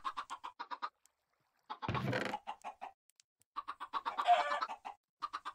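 Chickens cluck in a video game chicken cooker, quick repeated clucks in several clusters separated by pauses, with two louder, noisy bursts of mechanical sound mixed among them.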